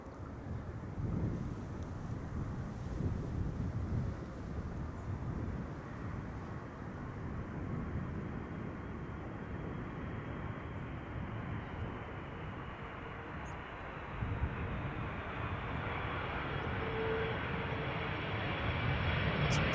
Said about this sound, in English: is KLM flight 767 arriving from Bonaire. It's an A330-200, 8 hours and 45 minutes on the way.